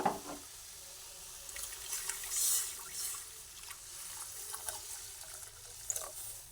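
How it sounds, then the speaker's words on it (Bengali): Milk is poured steadily into a pot of Gobindobhog rice for payesh, a soft continuous liquid splash and trickle heard up close with no talking. "এইভাবে করে পুরো দুধটাই ঢেলে দিচ্ছি"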